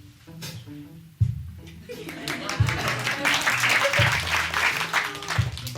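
An audience applauds at a live, improvised science storytelling show, the clapping swelling into a steady, fairly loud wash. Voices and low tones continue underneath it.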